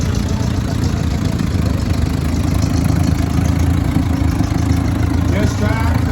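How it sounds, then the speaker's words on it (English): A John Deere 40 tractor with a vertical two-cylinder engine runs steadily at idle, a continuous low rumbling throb that stays at an even level throughout, heard fairly close with no other sounds standing out. "this 40 John Deere is a vertical 2-cylinder"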